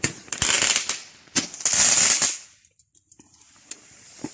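Bonfire night fireworks crackle and pop in rapid bursts at close range, then fade into a quieter stretch with scattered sharp snaps.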